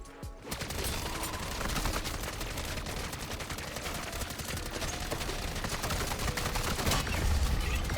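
Rapid, continuous bursts of automatic gunfire from Modern Warfare 3 Zombies mowing down an enemy, loud and dense for the whole stretch with no talk over it.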